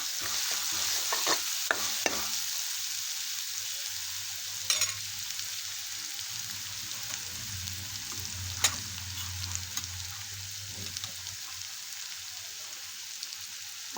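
Chana bhaji ingredients stir-fry in a pan with a constant soft sizzle and occasional sharp clacks of a spoon scraping and tapping the pan.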